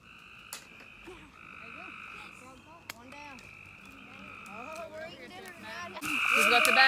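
Frogs croak in a steady nighttime chorus, with repeated trilling calls layered over one another at a moderate distance, and a voice briefly speaking near the end.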